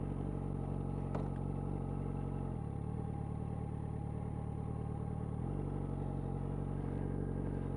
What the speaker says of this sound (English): get the bike in gear and get going